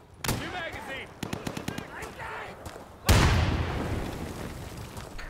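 A grenade blast and gunfire in the Insurgency shooter: a burst of sharp shots and voices early on, then a loud explosion whose long rumbling tail fills the rest of the clip.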